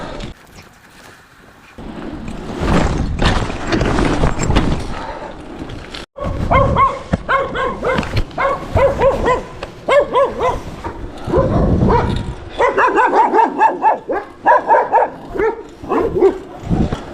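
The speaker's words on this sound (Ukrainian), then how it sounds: "Да, собаки не люблять велосипедистів." Dogs barking repeatedly and loudly at a cyclist in bursts, some yelps mixed in, over steady rumbling background noise.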